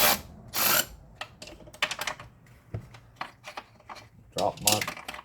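A ratchet with a socket tightens bolts on a GM 6.2/5.3 V8 intake manifold, giving irregular clicking bursts and metallic clatter close by, with a voice talking now and then.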